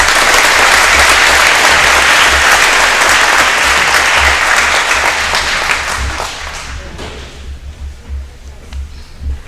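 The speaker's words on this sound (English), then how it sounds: "Please give a round of applause to Natalie Raymond." A graduation audience at a high school ceremony bursts into sustained, loud applause that fills the room, then gradually thins out and fades toward the end.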